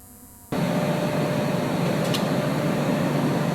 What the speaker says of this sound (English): Now you can see the planing machine, okay? The operator is sitting quietly, the machine is working.